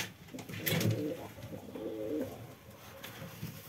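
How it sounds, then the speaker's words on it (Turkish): Domestic pigeons cooing inside a home loft, a few close, soft bubbling coos in short phrases with faint room noise between. "Bunlar da eşlediğimiz kuşlarımız arkadaşlar."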